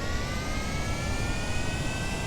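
Steady, loud roar of a Kerbal Space Program rocket engine throttled up, a continuous broadband rumble with faint high whine running unbroken throughout.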